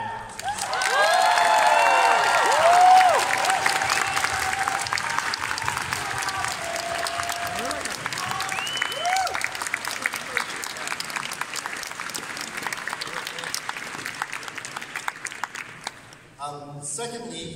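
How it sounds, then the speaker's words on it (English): A large crowd gives sustained, loud applause with cheers and whistles for the volunteers at an anime convention closing ceremony, the clapping dense and steady before thinning out at the end. "I really want to give a big round of applause for them."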